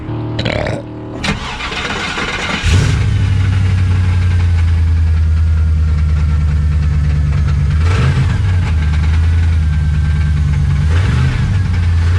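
A 5.3 LS V8 engine fouled with animal droppings cranks briefly, catches with a loud burst and settles into a smooth, steady, close-up idle, with a couple of small blips later.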